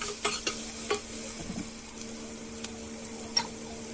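Finely chopped onions sauté in a pan for a poori potato masala, with a faint, even sizzle and occasional light scrapes of a stirring spoon.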